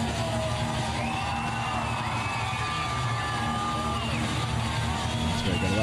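A wrestling crowd at a Red Rock Wrestling show in Charlottetown, many kids among them, cheering and yelling steadily for Titus as he heads to the ring, a continuous roar with whoops rising above it.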